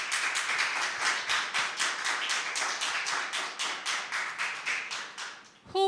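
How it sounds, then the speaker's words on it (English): Audience applause for participants in an impromptu speaking competition semifinal, rhythmic clapping that pulses in even beats for several seconds, moderately faint, ending with a brief voice. "please applaud all our participants for their efforts this evening"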